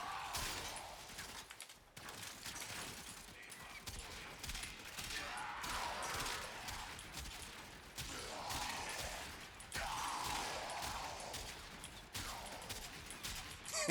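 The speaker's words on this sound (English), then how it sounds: "It shoots out an explosive ball that pings around and bounces around." Kuva Quartakk Incarnate in the Warframe video game fires explosive balls that bounce around, giving a dense, continuous barrage of crackling gunfire and blasts with layered mechanical clatter, loud and sustained throughout.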